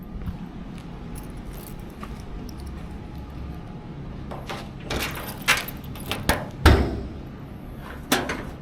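Keys rattle faintly, then several sharp knocks and a latch pop as the trunk of a 1971 Monte Carlo is released, a handful of close, brief clunks over a steady low background hum.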